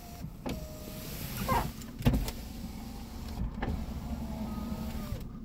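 Power windows on a 2012 Cadillac CTS4 coupe with 75,000 miles run up and down, giving a steady motor whine with a couple of sharp clunks as the glass stops, close and clear, with no talking.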